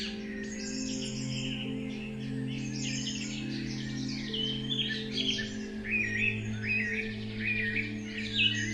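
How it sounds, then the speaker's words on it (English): Birds sing in a natural setting, steady chirps and warbling calls layered over a constant low hum, continuing throughout with slightly louder phrases toward the end. "listening to the calming melody of bird songs and the songs of nature and Mother Earth"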